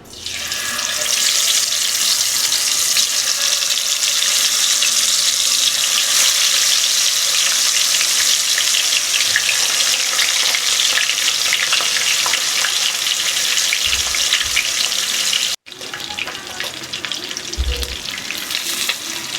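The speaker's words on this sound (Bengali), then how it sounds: "তেল খুব ভালো মতো গরম হয়ে গেছে। এবার আমি মাছগুলো ভেজে নেব।" Koi fish frying in hot mustard oil in a kadai, a loud steady sizzle that holds strong throughout, broken by a brief cut near the end before the crackle resumes.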